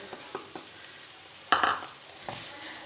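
Grated carrots frying with onions in a pan, a steady sizzle broken by a few stirring scrapes and one louder spatula stir, heard close.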